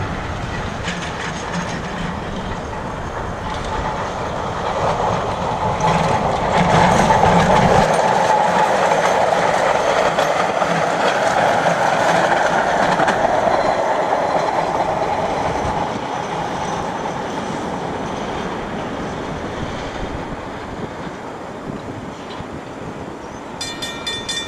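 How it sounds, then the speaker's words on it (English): A trolley train rolls past on rural tracks near a lake road, a loud rumbling rush that builds, holds for many seconds with rhythmic rail clatter, then slowly fades. "Here comes the trolley train."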